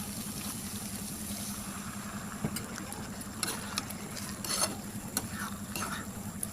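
Cornflour slurry is stirred into chili chicken frying in a pan, giving a soft continuous sizzle with scattered spoon clinks and scrapes at a fairly low level.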